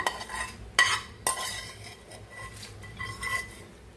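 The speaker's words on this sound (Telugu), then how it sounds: "తాలింపు అంతా కూడా ఈ రైస్తో పాటు బాగా కలిపేసుకోండి" A utensil scrapes and clinks against a pot while tempering is mixed into rice for daddojanam, a curd rice prasadam, making a few sharp metallic knocks over soft, faint scraping.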